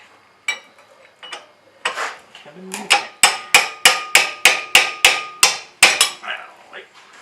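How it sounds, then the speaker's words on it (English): A hammer taps on Jeep Liberty ball joint parts during a ball joint replacement: a few scattered metallic knocks, then a quick, regular run of about a dozen sharp, ringing strikes close by. "so I'll tap with a hammer, put them back on"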